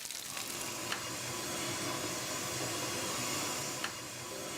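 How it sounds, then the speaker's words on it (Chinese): Pieces of crispy pork half pan-fried, half deep-fried in oil in a Chaozhou restaurant kitchen, a steady close sizzle and hiss with a few sharp pops and clinks, no talking. "它是半煎半炸的。"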